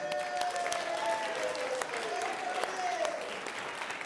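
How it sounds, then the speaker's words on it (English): An audience at a church service applauds after staff and volunteers are thanked, a burst of steady clapping of moderate loudness, with some talk faintly mixed in. "Let's give a joyful round of applause to all the staff and volunteers who made today's service possible."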